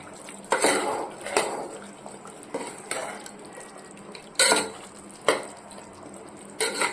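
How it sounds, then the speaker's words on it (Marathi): A metal spoon scrapes and clanks against a pan while chicken masala gravy is stirred, with sharp knocks at irregular intervals over a soft sizzle. "मिक्स करून घेऊया."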